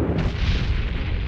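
Fire spell cast in the video game Morrowind, a loud dense whooshing roar with a rumbling low end that blasts out and holds briefly, heard alone.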